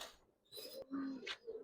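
A male Giribaz pigeon gives a brief, faint coo from close by, a short throaty call with a few quiet trailing notes.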